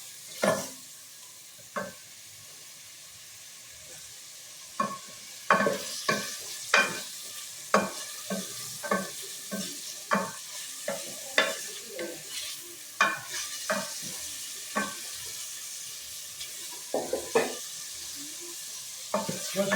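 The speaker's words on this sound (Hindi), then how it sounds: "गोश्त को बिल्कुल अच्छी तरह भून लें" Mutton fries with spices, including Kashmiri red chili and korma masala, in a pot, a steady soft sizzle punctuated by frequent close scraping stirs of a spoon against the pot, without talking.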